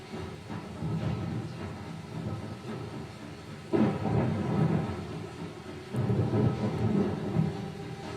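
Rolling thunder and heavy storm noise surround a boat scene in The Last of Us, a constant low rumble that swells in two loud surges, with no talking.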